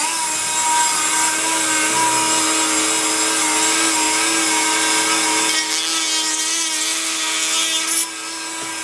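A high-pitched rotary tool with a carving bit whines steadily while grinding into a metal stator plate, loud and close, cutting off abruptly near the end.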